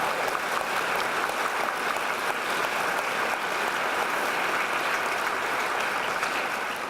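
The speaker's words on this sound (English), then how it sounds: "So a round of applause to you students for taking that on." Applause for students at the Rock Ridge High School dedication ceremony: an even wash of clapping from a crowd, moderately loud and unbroken throughout.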